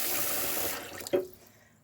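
Hot tap water runs steadily into a sink while spun wool is being set, then the faucet is shut off and the flow stops with a brief knock and a few fading drips.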